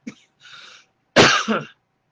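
A short breathy cough sequence: a soft hack, a brief pause, then a louder harsh cough close to the microphone, followed by silence.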